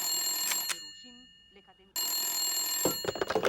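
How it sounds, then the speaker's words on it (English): A telephone rings in repeated electronic bursts with steady high tones, loud and close, with short gaps between rings and some background noise. "At 6 a.m., the phone rings."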